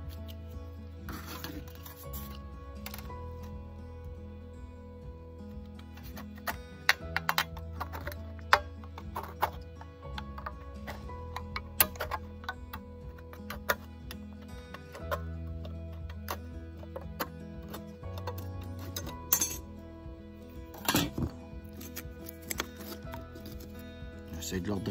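Metal sheet being cut by hand to make a survival whistle, with repeated sharp snips and scraping clicks at close range over a steady background hum, no talk.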